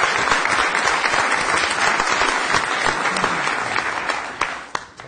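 Loud, close applause from a group at a city council meeting, sustained clapping that thins out toward the end with a few final claps.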